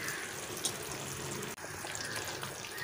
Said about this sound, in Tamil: ஸோ புளி தண்ணி ஆட் பண்ணிவிட்டு நல்லா கலக்கி விடுங்க.